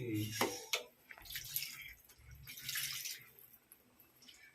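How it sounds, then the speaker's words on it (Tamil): Water splashing and trickling into a pot in short bursts, with low clattering and brief pauses between pours, close by. "இன்னும் கொஞ்சம் தண்ணி ஊற்றிக்கலாம்"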